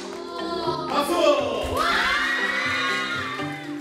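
Loud crowd of children cheering, whooping and clapping after a taekwondo board-breaking demonstration, a sustained burst of excited shouting with scattered applause.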